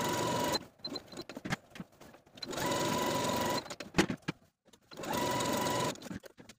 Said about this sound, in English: continuing those basting stitches until you're back at the top of your opposite front skirt piece